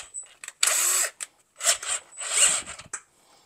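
Power drill boring through metal during a rear disc brake conversion on a G-body car using S10 Blazer parts, several short high-pitched whining bursts of varying length, close and loud with pauses between.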